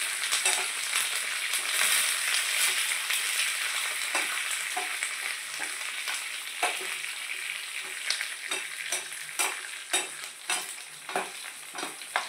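Chana dal, urad dal, dried red chillies and curry leaves sizzle in hot oil for a tamarind pulihora tempering, a steady close frying hiss broken by sharp stirring scrapes that grow more frequent toward the end.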